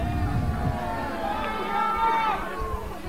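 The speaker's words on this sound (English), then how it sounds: "So a big cheer for the Parliament troops." Crowd cheering for Parliament troops at a Sealed Knot English Civil War reenactment in Mote Park, Maidstone, a sustained outdoor roar of many voices with some higher shouts rising and falling over about three seconds.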